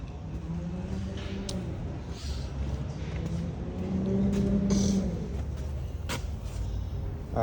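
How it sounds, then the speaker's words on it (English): A Can-Am Maverick X3 off-road racing car's engine drones steadily, swells a little midway and then settles back, with faint voices underneath. "So Phil is racing the same car he raced last year. That's his Can-Am Maverick X3."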